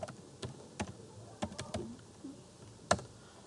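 Computer keyboard typing, a handful of sharp, separate keystrokes tapped at an irregular pace, close and fairly quiet, with no voices.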